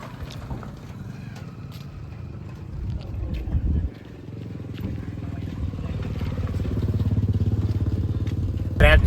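A tractor engine idling and then revving, a low steady rumbling drone close by that grows gradually louder, with people talking over it.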